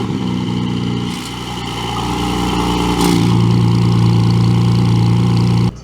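A Porsche 718 Cayman GTS 4.0 engine idles loud and close, with a low steady hum that rises to a stronger, fuller idle midway before cutting off abruptly.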